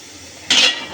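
Chopped bottle gourd tipped into a hot cooking pan: one sudden loud sizzling splash that fades quickly after a quiet start.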